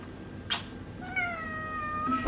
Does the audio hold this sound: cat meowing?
yes